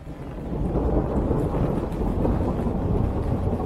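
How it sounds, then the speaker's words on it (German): Steady low rumble of rain and wind on a sailboat with a muffled roll of thunder, continuous and fairly loud, with no voices. "Und blitzen tut es auch noch und donnern."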